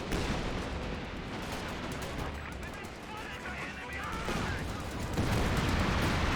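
Sustained machine-gun fire from a .50 cal in a Company of Heroes battle, suppressing Grenadier infantry. Rapid bursts and scattered battle noise are mid-distance and fairly loud, mixed with other gunfire, and quiet talk is faintly present.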